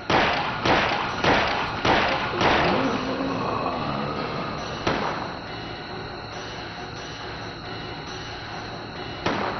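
Handgun shots in Silent Hill: four sharp, loud reports fire in quick succession at close range, then two more farther apart, each followed by a short ringing decay, with no voices over them.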